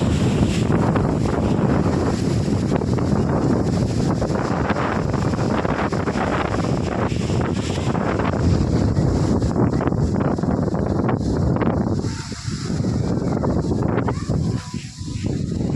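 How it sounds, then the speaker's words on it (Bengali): A fierce storm wind roars across a rooftop at a village house in a steady, loud, unbroken rush of gusts, easing slightly near the end before picking up again; dry weather with no rain and no talking. "প্রচুর ঝড় হচ্ছে, ঝড়ের কারণে আমি ভয়েস দিতে পারছি না।"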